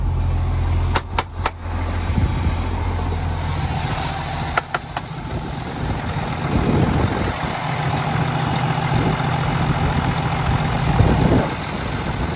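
A 2015 Peterbilt 579 day cab with a Cummins engine idles steadily nearby, a continuous low diesel rumble with a few clicks and knocks early on and slight swells in the drone.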